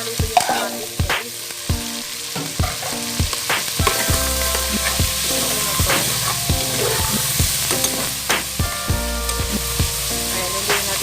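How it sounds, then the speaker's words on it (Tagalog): Tomatoes frying in a pan as they are stirred and mashed, a bright continuous sizzle broken by frequent sharp knocks and scrapes of the utensil against the pan, close and clear with no talking. "Ayan, lutuin natin yung kamatis."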